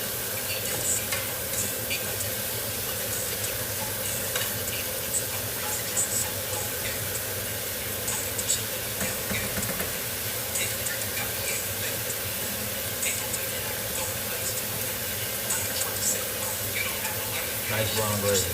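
Meat and gravy cooking down in a pan, a dense continuous sizzle and bubbling hiss with occasional stirring scrapes, steady and close throughout.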